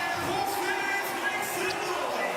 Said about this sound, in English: you can hear the fans showing a little bit of love in the house